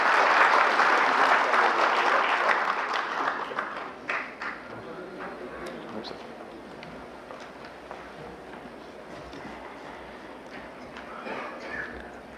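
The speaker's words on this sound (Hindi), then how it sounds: "एक बार तालियों के साथ उनका स्वागत किया जाए।" Audience applause welcoming a speaker at an Aadhaar training event, a dense burst of clapping that fades over several seconds into scattered claps and room murmur.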